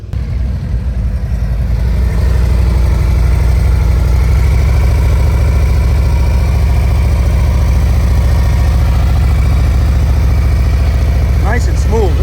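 Steady, close motorcycle engine idling at low speed during slow-speed riding practice, with a constant low rumble throughout and a voice speaking briefly near the end.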